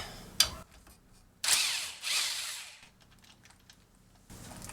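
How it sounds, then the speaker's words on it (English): A ratchet or power tool spins off the 19 mm top nut of a front strut on a 2006 Toyota Sienna, in two loud bursts with a sharp click before them and quieter mechanical clicking in between. "So all we need to do is take off the top nut"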